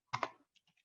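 Keys clatter on a computer keyboard as a Linux terminal command is typed: two quick loud keystrokes close together, then a few faint scattered taps, with no talking.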